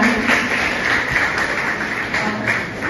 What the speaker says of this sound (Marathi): सर्वांनी टाळ्या वाजवून त्यांचं स्वागत करायचं आहे.